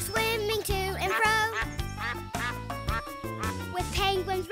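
Duck quacks sound over a bouncy children's song with a steady beat, with the voices singing throughout.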